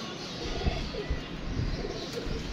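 Pigeons coo in a low, steady murmur as a female pigeon lands on a rooftop loft, with soft wing movement and the birds calling close by through the clip.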